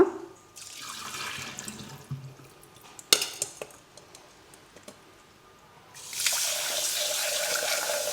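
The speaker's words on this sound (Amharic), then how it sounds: "በቀዝቃዛ ውሃ ለቅለቅ እናደርገዋለን።" Cold tap water runs into a sink for rinsing during cooking prep, a soft hiss that starts and stops with a few clinks and taps in between, then returns louder near the end.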